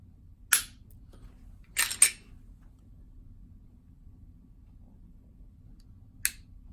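A Glock 43X pistol being dry-fired, giving sharp isolated clicks: one, a close pair a moment later, and a last faint click after a long quiet gap, with no talking.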